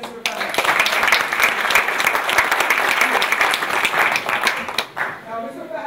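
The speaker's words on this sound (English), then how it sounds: "That's a big round of applause for Mr." An audience applauds a volunteer called up on stage at a product launch event, a loud, dense round of clapping that fades out near the end, with a voice talking over it.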